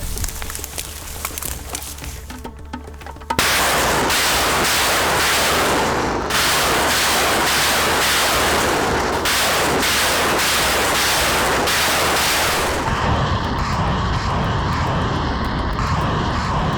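Grad multiple rocket launcher firing near Bakhmut, a loud, continuous roar that jumps sharply in intensity after a few seconds and holds as a dense rushing blast with crackling texture, with no voices.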